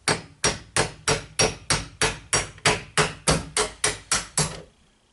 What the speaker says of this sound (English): You could just use a nail and tap it up with a hammer.